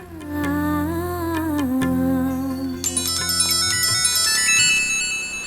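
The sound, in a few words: phone ringtone of an incoming call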